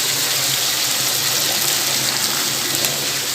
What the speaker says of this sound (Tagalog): Lalagyan natin ang tubig-tubig